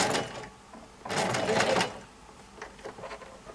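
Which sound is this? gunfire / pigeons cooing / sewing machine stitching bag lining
sewing machine stitching bag lining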